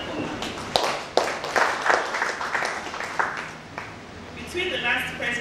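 A press briefing audience at the Lagos State Ministry of Establishment and Training gives a brief round of scattered clapping, moderately quiet and fading toward the end.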